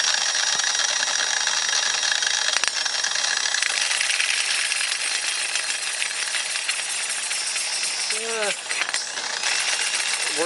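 A modified Homelite Bandit motor spins up with a loud, rattling, high-pitched whir that holds steady throughout, and a voice speaks briefly near the end.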